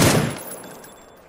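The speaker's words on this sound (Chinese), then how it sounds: "有人开枪" A burst of gunfire from a shooter video game cracks loudly at the start, then its echoing tail fades away over about a second.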